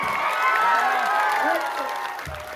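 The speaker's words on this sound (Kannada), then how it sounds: "ಒಂದು ಜೋರಾಗಿ ಚಪ್ಪಾಳೆ ಬರಲಿ ಎಲ್ಲರಿಗೂ" An audience at a village comedy performance claps and cheers, a lively crowd noise with whoops, while a voice speaks over it near the start.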